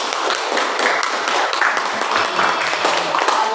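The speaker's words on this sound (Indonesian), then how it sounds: "Tepuk tangan untuk kelompok 2." Classroom applause for a student group after a presentation, a dense steady patter of many hands clapping throughout at fairly close range.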